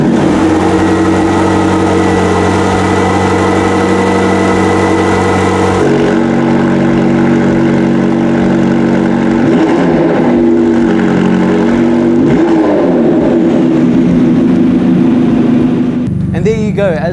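A 2023 McLaren GT with a 4-litre twin-turbo V8 idles with a loud, steady burble, then revs up and down in several swells as it switches between comfort and sport modes.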